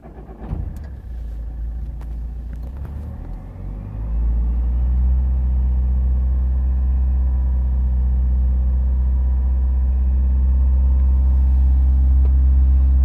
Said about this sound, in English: Now let's start the car and see what will happen.